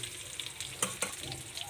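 Chopped onion and salt sizzle steadily in a hot pan, a soft continuous frying hiss with a couple of brief stirring clicks and spatters partway through.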